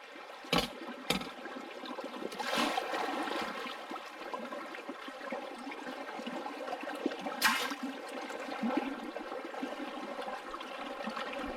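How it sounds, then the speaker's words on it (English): Water washes gravel material into a gold pan at the end of a high banker while prospecting in Fiji, a steady rushing, trickling flow with a few sharp knocks, close and without speech. "I normally just put my pan at the end and just wash it all into the pan"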